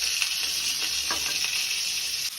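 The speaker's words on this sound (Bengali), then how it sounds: "পটলগুলো ভালো করে ভেজে নেওয়া হচ্ছে" Pieces of pointed gourd (potol) frying in oil, giving off a steady bright sizzle with a few soft stirring scrapes, close and continuous.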